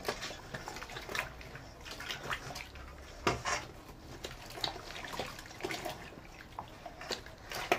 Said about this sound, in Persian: به این شکل اونو قوطه‌ور میکنیم داخل آب، قشنگ خیس بخوره